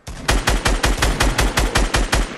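Rapid automatic gunfire from Fortnite Battle Royale: about ten loud, evenly spaced shots in a quick burst with no pauses, heard alone with no talk over it.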